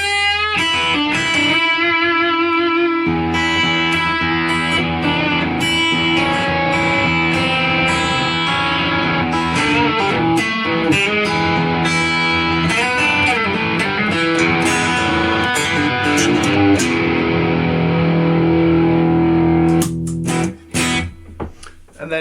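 Cheap boxed Marshall guitar amp driven by a Tube Screamer style overdrive pedal, playing a continuous loud, dirty distorted guitar passage with sustained chords and picked notes for about twenty seconds before cutting off.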